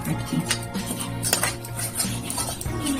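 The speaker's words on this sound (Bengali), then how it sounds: "নুন আর হলুদটা ভালো করে মাখাচ্ছি মাছে।" Hands rubbing salt and turmeric into pieces of hilsa fish in a metal bowl, with steady clinks and scrapes of metal and dishes close up, and no talking.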